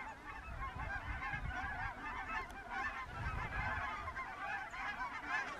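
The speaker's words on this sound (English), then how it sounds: "Bunch of birds coming near the end of the trail here." A flock of geese honking continuously along a prairie trail, many overlapping calls at moderate distance, forming a dense, steady chorus with no talking.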